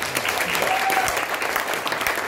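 Steady, dense applause from a concert audience in a studio venue, a continuous wash of many hands clapping at close range, filling the whole moment without pause.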